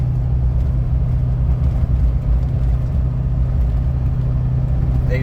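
A Chevrolet Duramax diesel pickup truck cruising along a rough road in Arkansas, its steady low engine drone and road rumble continuous and close throughout, with no talking.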